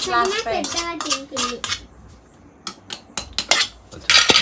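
Tomatoes and green chillies pounded for chutney, with a voice speaking at first, then a run of sharp, irregular knocks and clatters of stone or pot, close by, ending in a louder burst.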